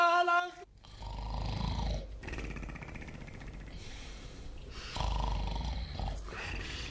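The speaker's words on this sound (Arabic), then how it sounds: "فاتح لي بورزانه على الاخر وعم يشخر" A man sleeps with his mouth wide open and snores loudly, producing heavy, rasping, drawn-out breaths in long repeated bursts close by, with some voice sounds around them.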